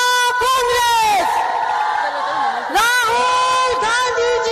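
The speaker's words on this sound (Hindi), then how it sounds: "सब जोरदार तालियों से जय जयकार करके इस पुस्तक का अनावरण करेंगे" A crowd at a book unveiling raises a loud, sustained chorus of cheering and chanted acclaim, voices rising and falling in long swells with a brief dip midway.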